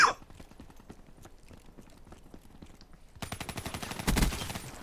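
Rapid bursts of gunfire in the multiplayer video game Black Ops 3, first as faint scattered shots and then a louder, denser volley near the end.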